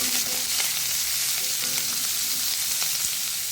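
Onions fry and sizzle in a pan with black pepper powder while being stirred, a dense steady crackle broken by soft scraping strokes, close up with no voices.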